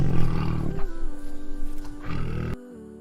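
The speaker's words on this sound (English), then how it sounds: "Tiger." A tiger gives a loud, close, rumbling roar lasting about two and a half seconds, set over light music and cutting off sharply.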